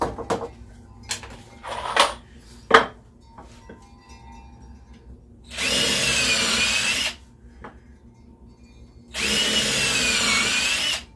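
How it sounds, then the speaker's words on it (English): A power drill bores pilot holes into wood for a DIY flower planter, two loud sustained whirring bursts of about a second and a half each, with scattered knocks and handling clatter of wood between them. "got a pre-drill there"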